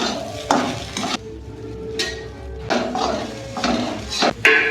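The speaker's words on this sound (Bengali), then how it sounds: "এখন চিড়ে দিয়ে একটু ভাজবো" Flattened rice (poha) stir-fried in a pan: loud, close bursts of spatula scraping and tossing against metal over a light sizzle, each burst lasting about a second.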